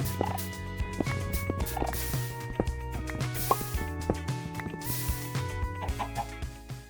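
Chickens in Minecraft cluck repeatedly with short, bright game-style calls, layered over background music with steady tonal notes.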